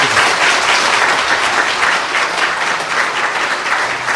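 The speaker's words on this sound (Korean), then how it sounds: "큰 박수로 받아주시기" Loud, steady applause from a church congregation welcoming returning guests at a homecoming service, dense clapping sustained evenly for several seconds with no voices over it.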